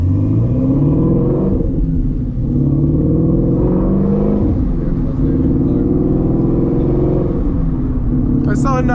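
A Shelby GT350 Mustang engine growls loudly and steadily while driving, with low rumbling rises in revs through the whole stretch, close up inside the car, while people talk over it.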